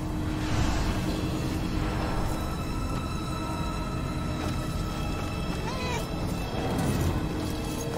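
A cat meows in the video game Murdered: Soul Suspect, with short mews rising faintly from a constant rushing ambient bed that carries on throughout.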